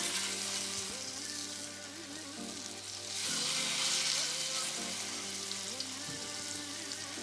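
Chicken thighs sizzle steadily in a preheated skillet, a close, continuous frying hiss with a brief surge partway through as more pieces go in. No talking.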